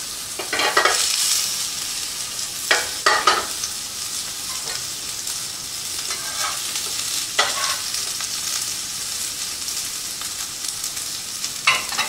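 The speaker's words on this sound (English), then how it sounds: "Just so you're frying these a little bit." Pork schnitzel frying in a shallow layer of oil in a pan, giving a steady, fairly quiet sizzle with a few louder crackling bursts as the pieces are moved.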